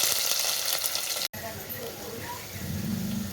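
Onion hits hot oil already holding ginger and garlic, giving a steady loud sizzle and frying hiss with a brief cut near the middle. A voice talks over it.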